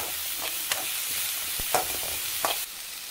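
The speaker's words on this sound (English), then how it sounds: "Mix well." Onion and dry chilli fry in a pan for a paniyaram batter, with a steady close sizzle and a few soft scraping stirs spaced through it.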